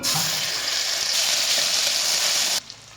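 Onion paste goes into hot oil with black cumin seeds and erupts in a loud, close, steady sizzle that flares brighter midway, then stops abruptly near the end, leaving quiet.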